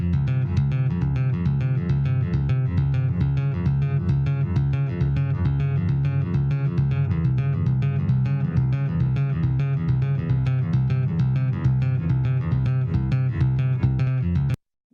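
Tapped bass guitar intro riff for a heavy metal track, a rapid stream of evenly repeating notes cycling a chord progression, steady and loud for about fourteen seconds before stopping abruptly, played alone without voices.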